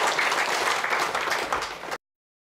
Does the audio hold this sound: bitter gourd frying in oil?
no